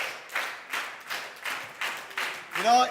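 An audience at a leadership training camp in Siófok claps in unison, a steady rhythmic beat of about three claps per second, fairly close and even, ending with a brief tonal sound.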